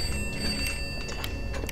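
A telephone rings in the horror video game Pineview Drive, a faint, bright repeating trill over a low ambient drone, with no voices.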